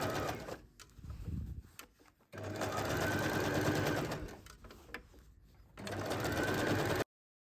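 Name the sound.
sewing machine stitching tote bag pieces together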